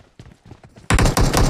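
Rapid bursts of PUBG Mobile gunfire erupt loudly and continuously after a quieter stretch of faint clicks and muffled sounds.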